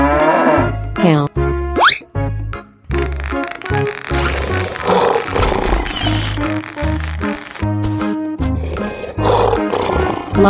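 A cartoon lion gives a loud, rolling roar over lively background music, the call repeating in bursts through the stretch.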